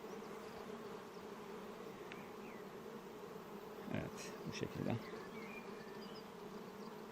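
Steady low hum of many honey bees buzzing together in a hive, with a few brief louder rustles and a short spoken Turkish phrase partway through.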